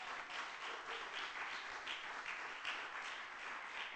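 Congregation applause at a live-streamed Wednesday church service, a steady wash of many hands clapping together with no breaks, heard from a middle distance and fairly soft.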